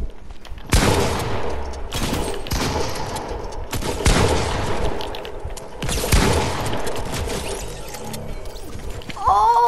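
A run of close, loud gunshots in a video game, pistol fire in several bursts spread across the stretch, with a voice breaking in briefly near the end.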